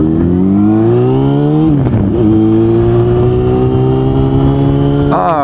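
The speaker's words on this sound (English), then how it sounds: "The exhaust is ridiculously awesome." A car's exhaust revs hard, the engine note climbing and holding, dipping briefly, then rising again in a loud close roar from inside or beside the vehicle.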